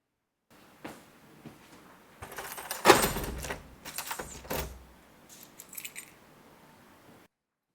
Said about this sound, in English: Now the door is locked, so don't even think about it.